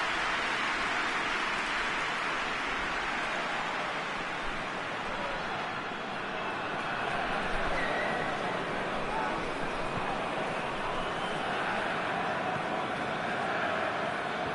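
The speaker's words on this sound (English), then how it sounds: "Just starting to get the first signs of rain here." Steady hiss of rain falling over a football pitch in the PES soccer video game, a continuous broadband wash at even loudness with no talk heard.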